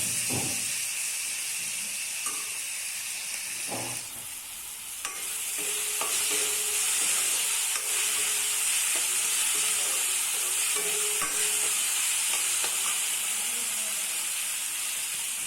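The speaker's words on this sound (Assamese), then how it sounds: "বিলাহীটো গলালৈকে ভাজি লওঁ।" Tomatoes fry with salt in a pan, giving a steady loud sizzle with stirring scrapes and clicks throughout, with no voices.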